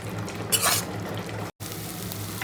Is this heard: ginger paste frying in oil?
yes